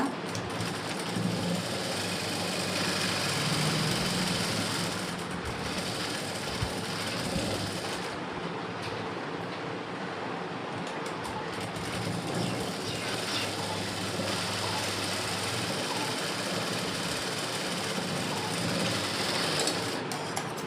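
Sewing machine stitching a 36-inch lined blouse, a continuous close mechanical whir with rapid needle chatter, briefly pausing a few times before resuming, no voices.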